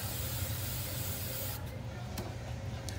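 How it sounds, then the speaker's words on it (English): A hairspray can sprays steady, close hiss over the front section of hair while it is shaped into a blow-dried volume pompadour. The continuous spray fills the whole moment with no talk over it. "otra vez acercamos el spray."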